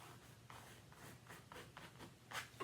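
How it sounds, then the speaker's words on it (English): Tape is burnished down onto a doormat with a series of soft, close rubbing strokes in an uneven rhythm, quiet and scratchy. "I'm going to kind of burnish this down just a bit so as not to get it under my tape"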